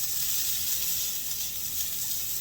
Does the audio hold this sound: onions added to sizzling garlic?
yes